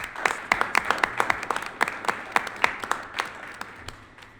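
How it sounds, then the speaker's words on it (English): Small audience at a school board meeting clapping for a student spelling bee award, a thin scatter of separate claps over about four seconds that stays steady and modest in volume. "give her a warm round of applause"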